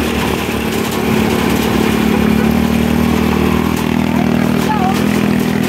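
A small motor tricycle engine drones loudly and steadily, laboring under load as it rumbles along a rough road, with a voice faintly audible over it.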